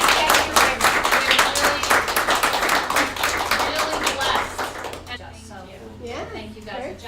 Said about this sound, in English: I want you guys to give Mindy a great round of applause